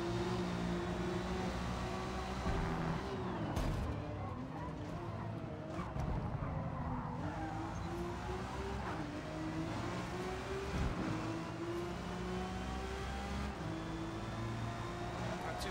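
Nissan Skyline R32 race cars accelerate out of a corner at Suzuka circuit. Engines rev up and shift pitch continuously, with some tyre noise, all fairly faint and steady throughout.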